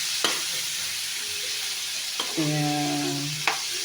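Bitter gourd (ampalaya) sautéing in a pan, a steady soft sizzle with a few sharp clinks of a utensil stirring against the pan, close and alone without talk.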